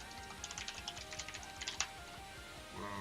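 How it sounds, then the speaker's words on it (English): Quiet typing on a computer keyboard, a steady run of light key clicks with one sharper tap near the end, then a faint rustle. "Whoa, keyboard."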